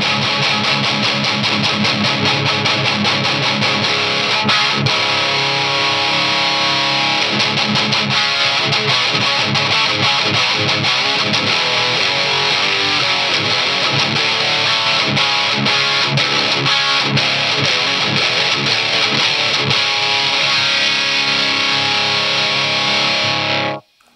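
Electric guitar played through a Blackstar Amped 3 amplifier with a heavy distorted tone and tightened bottom end, loud and continuous for over twenty seconds of dense chugging riffs before an abrupt stop.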